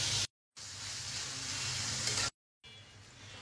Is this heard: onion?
yes